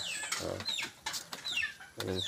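Several egg-laying chickens cluck and squawk in quick, uneven bursts close by, with short gaps between calls.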